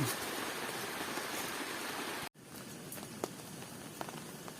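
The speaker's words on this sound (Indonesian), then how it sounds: "Yang kita takutkan hujan pun turun" Steady rain hisses down on a mountain hike. The dense wash of noise breaks off for a moment midway, then returns slightly softer with a few distinct drips.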